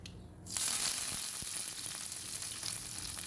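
Curry leaves drop into hot oil already crackling with mustard seeds, urad dal and onion. A sudden loud sizzle erupts and then hisses on steadily, with faint spattering pops throughout.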